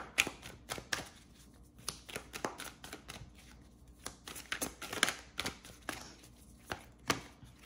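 Tarot cards being shuffled by hand, a run of crisp irregular riffling snaps and taps, close and quiet, with no talk.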